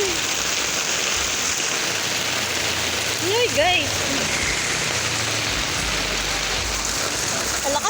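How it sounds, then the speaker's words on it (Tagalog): Heavy tropical storm rain drums steadily on a transparent umbrella, a loud, continuous hiss close overhead, while a woman briefly exclaims partway through. "Ang lakas ng ulan"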